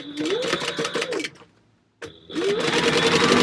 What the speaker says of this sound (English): we're going to take this to the sewing machine and I'm going to base stitch down the sides